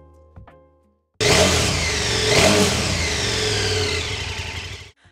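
A KTM 1290 Super Adventure R motorcycle engine bursts into loud, close revving after a short quiet lead-in, surging up and down through several throttle blips before stopping sharply.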